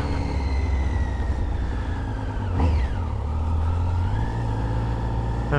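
A motorcycle ridden on open roads in England with the rider's visor up, giving a loud steady engine drone mixed with rushing wind, and a brief swell of passing traffic midway.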